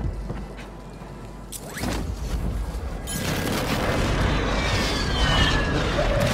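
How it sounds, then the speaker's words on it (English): Airstrike explosions in Warzone Mobile roll in as a dense, loud wash of booming blasts and crackling debris that swells after a few seconds and stays sustained, with scattered sharper impacts. "Airstrike, find cover."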